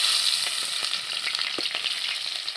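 Onions fry in hot oil in a pan for a fish curry, a bright, close, continuous sizzle with light crackles and soft stirring taps.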